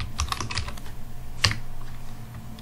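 Computer keyboard typing in MS Word, a run of close, crisp key taps with one louder clack midway, then quieter, steady background after it.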